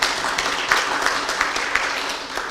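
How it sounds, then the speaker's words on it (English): Audience applause at an environmental waste-for-cash project symposium, honoring the county environment director: steady, dense hand clapping from a crowd, moderately loud with small swells, no speech. "Let's applaud him until he arrives here."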